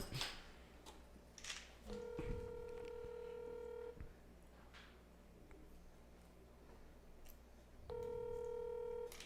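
A telephone number being dialed: quiet clicks and brief tones, then two long steady dial or ring tones a few seconds apart, faint and close.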